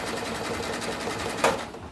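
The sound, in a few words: sewing machine sewing rope coaster with wide stitch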